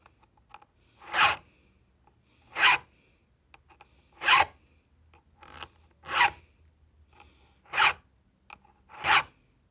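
A hand file rasps across a saw chain's cutter teeth, seven separate strokes spaced about a second and a half apart, each one a short, sharp, scraping burst. Between strokes there is near silence.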